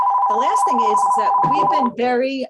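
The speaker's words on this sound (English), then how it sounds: "I apologize for the phone ringing." An office desk phone rings steadily beneath a voice, its tone holding under the talk for most of the moment before cutting off.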